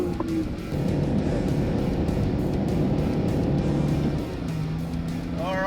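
Toyota Prado off-road vehicle racing outback terrain, its engine droning loud and steady under excited talk, with a brief rising whine near the end.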